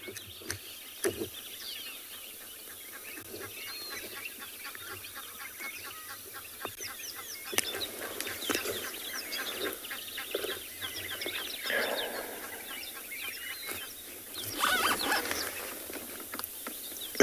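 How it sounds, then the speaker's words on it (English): Scattered Egyptian goose honks and calls carry from a distance over a steady outdoor background at a South African safari reserve, rising and falling in bursts throughout. "In the background you can hear some of the Egyptian geese."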